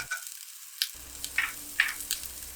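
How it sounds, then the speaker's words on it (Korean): Dried pollock and radish stir-frying in sesame oil over high heat, a light crackling sizzle with several short spatter bursts and soft stirring scrapes. "참기름 두 큰술을 두르고 센 불에서 북어와 물을 볶을게요."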